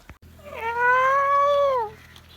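A single loud, drawn-out yowl from one of two fighting cats rises and holds for over a second before trailing off.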